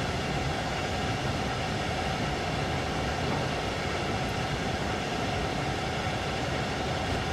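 Passing train in the Train Sim World 3 regional express scenario through the German countryside: a steady, dense rumble of rolling rail noise held at constant loudness throughout, with no talk.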